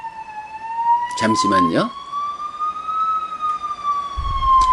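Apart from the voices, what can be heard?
ambulance siren passing on a nearby main road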